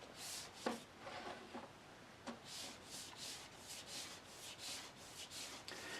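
Steady scratchy rubbing of sandpaper across a model submarine hull, repeated back-and-forth strokes with a few sharper scrapes, close and moderately quiet.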